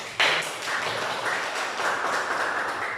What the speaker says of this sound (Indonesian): sebelumnya kita berikan aplaus